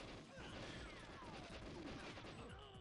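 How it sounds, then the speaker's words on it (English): Distant gunfire from the GoldenEye 007 video game, a dense, steady rattle of game shots and crackling impacts running continuously at moderate loudness with no voice over it. "Where is that gunfire coming from?"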